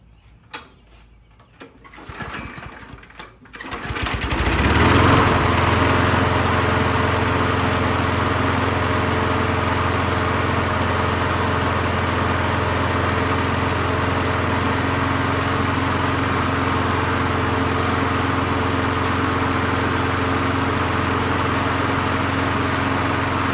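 A 2005 Craftsman 22-inch lawn mower with several faults: rattling pull-cord tugs and sputters, then the small engine catches and settles into a loud, steady, close drone that continues without a break.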